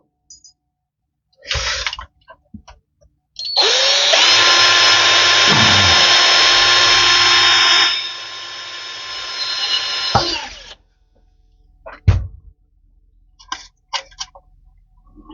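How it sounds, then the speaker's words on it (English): A power drill whirs loudly and steadily for several seconds, close up, with clicks and handling knocks before and after. "get my drill, then I'm gonna make a hole in the back here"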